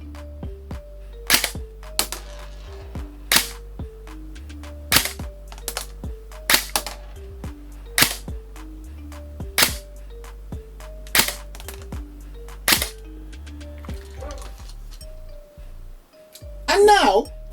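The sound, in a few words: airsoft gun firing BBs, full auto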